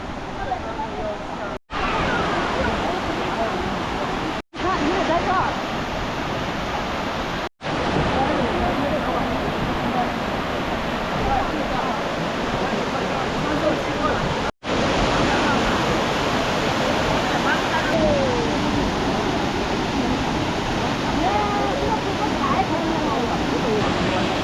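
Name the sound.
waterfall at Jiuzhaigou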